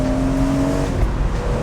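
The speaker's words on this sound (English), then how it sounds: "you still get the rasp of the exhaust" A BMW E46 M3 convertible's S54 straight-six exhaust rasps steadily on a UK road, a close, continuous engine drone with a held tone that shifts briefly near the end of the short stretch.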